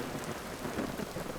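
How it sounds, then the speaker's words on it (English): Thunder rolls through a rainstorm in the video game Vintage Story, a low sustained rumble under steady rain noise, fairly faint and with no talking. "Thunder."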